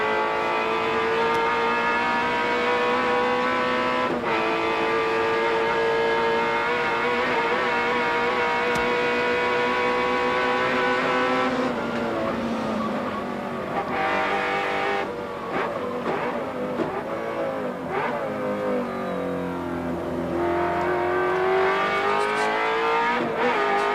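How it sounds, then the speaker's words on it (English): V8 Group A race cars at the 1991 Bathurst 1000, heard from onboard as a loud, continuous engine roar rising through the gears, with shifts and falling revs into a corner before pulling hard again. "Just listen to that awesome V8."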